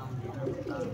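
Soft, low pigeon cooing, close by, continuous over a short moment.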